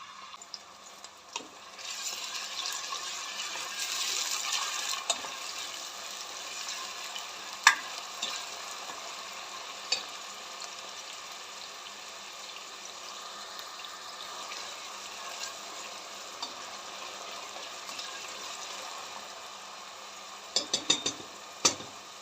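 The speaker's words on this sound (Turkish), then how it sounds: "Soğanlarım yumuşayıncaya kadar kavuracağım." Onions sauté in oil in a pot with a steady, soft sizzle and occasional stirring clatters, close but fairly quiet, with a few utensil knocks near the end and no voices.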